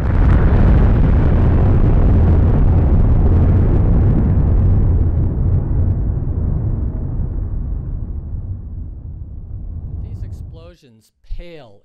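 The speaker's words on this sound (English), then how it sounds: "the first one being an atomic bomb explosion that Fiona mentioned" A huge atomic bomb blast from a film roars at full loudness, a dense rumbling wall that slowly decays over about ten seconds before cutting off, followed by a brief burst of narration at the very end.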